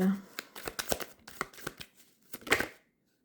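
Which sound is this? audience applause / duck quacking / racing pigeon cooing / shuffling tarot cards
shuffling tarot cards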